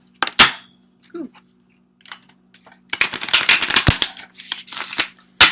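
Short bursts of cards being riffled and shuffled, with brief pauses between, ending in a longer flurry of shuffling close by.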